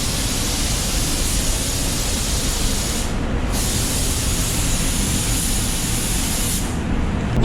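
Spray gun laying down a first coat of red tri-coat automotive paint, a loud steady broadband hiss running continuously with two brief dips where the trigger eases off.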